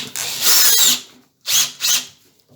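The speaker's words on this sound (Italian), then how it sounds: "Possiamo già attaccare il trapanino." A small power drill on a lathe tapping attachment whirs in three short bursts, a high buzzing spin with brief pauses between, close by and loud.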